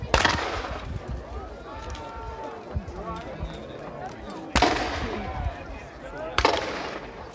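Cannon fire at a Battle of Tewkesbury reenactment: two sharp, loud booms a couple of seconds apart, plus an earlier blast, over crowd murmur and nearby talk.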